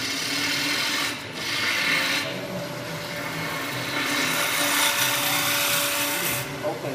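Woodturning gouge cutting along the side grain of a spinning wooden blank on a lathe, a continuous rasping shear that rises and dips in short passes, with a voice talking over parts of it.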